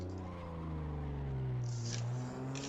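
Car driving a rally-style lap, engine revving: a steady, loud engine drone holding close, with pitch rising and easing slightly as the engine works through the turn.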